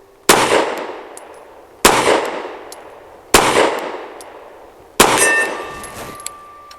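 Four rifle shots from a BUL Armory Ultralight ring a steel target at an evenly spaced pace, each a sharp loud crack trailing off into a metallic ring.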